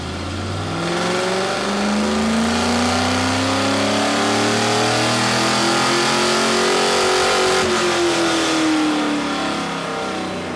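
A Ford Mustang 289 V8 with a custom exhaust runs on a dyno in one long, loud pull, its pitch climbing smoothly to a peak near the end before easing off.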